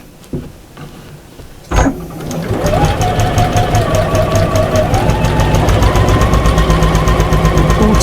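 Sewing machine stitching a patchwork Santa gnome cushion: a click, then a fast, even run of stitching that holds steady and loud to the end, with no talk.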